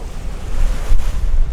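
Ocean surf rolls out along a wide semicircular shoreline, a loud, steady wash of waves with some wind rumble at the microphone and no voices.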